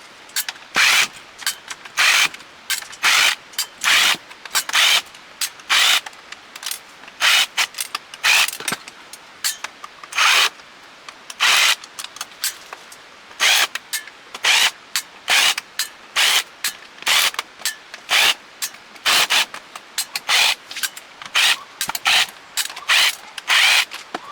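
A drill backs screws out of the rear panel of a stereo receiver being scrapped, sounding as a long run of short, loud bursts with brief gaps, each ending in a quick ratcheting whir.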